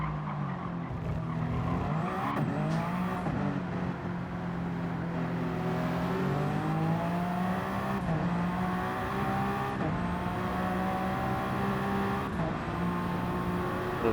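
Race cars roar through a flying qualifying lap in a racing video game, one passing another; continuous loud engine whine rising and falling through the gears, with brief tire scrub.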